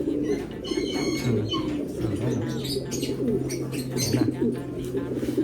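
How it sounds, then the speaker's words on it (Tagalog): Pigeons cooing steadily in a loft, several close, low coos repeating over a busy background of chirps and rustling, with quiet talk now and then. "Ayan na mga kalapatids."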